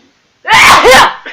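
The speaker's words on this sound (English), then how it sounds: "We just sneeze into the microphone now." A person sneezes right into a microphone, one loud, close, explosive burst that splits into two quick pulses, with a short quiet gap before it.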